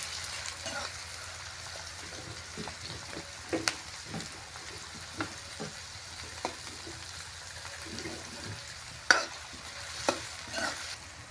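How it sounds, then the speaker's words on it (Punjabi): Onions fry quietly in a pan for a mixed vegetable curry of pointed gourd, carrot, potato and peas, a soft steady sizzle broken by occasional stirring scrapes and clicks, with no talking. "ਆਪਾਂ ਜੀ ਪਿਆਜ਼ਾਂ ਨੂੰ ਭੁੰਨ ਰਹੇ ਹਾਂ"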